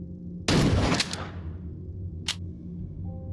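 A one-handed shotgun fires once in The Walking Dead: Saints & Sinners, a loud close blast with a short decaying tail, followed by a brief sharp mechanical click a second later.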